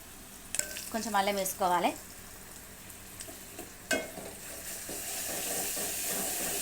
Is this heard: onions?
yes